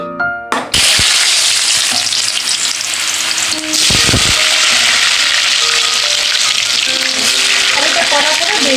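Potatoes hit hot oil for a soybean and potato curry, a loud dense frying hiss that starts abruptly after a clatter and runs on steadily, with occasional utensil clinks.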